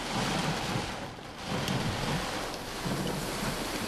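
Heavy hurricane rain and gusting wind roar in a dense, continuous wash, swelling and easing in waves with no voices.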